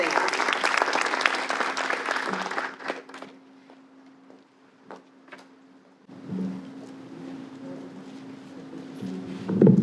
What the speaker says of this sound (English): Let's give her a warm round of applause as she comes down.